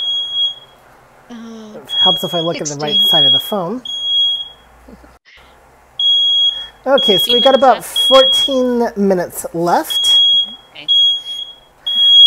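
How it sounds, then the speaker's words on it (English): A timer alarm beeps in steady, repeating high-pitched pulses that run through most of the stretch, continuing under and between people talking. "I don't think that's the specific timer you want to go off"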